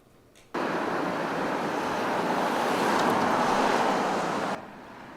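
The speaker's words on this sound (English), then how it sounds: "you may be familiar with the issue of traffic noise affecting residents and business owners" Road traffic on Edmonton's Jasper Avenue makes a dense, steady broadband roar that starts abruptly, holds loud for about four seconds, then cuts back to a quieter background hum.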